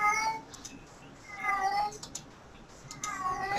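Household cat meowing indoors, three distinct drawn-out meows spaced about a second apart, fairly close and clear against a quiet room.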